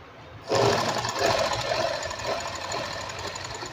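A sewing machine stitches along elastic on a saree belt. After a brief quiet start, its rapid, even mechanical chatter kicks in abruptly and runs steadily, close and moderately loud, with no speech.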